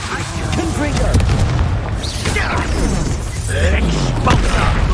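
A Confringo fire blast spell explodes in Hogwarts Legacy on hard mode, giving deep, booming bursts amid dense, continuous combat noise.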